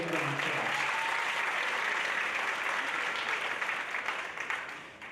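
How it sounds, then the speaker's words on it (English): A large crowd at a graduation ceremony applauds steadily and loudly, the clapping holding strong before tapering slightly at the end. "Give them a big round of applause."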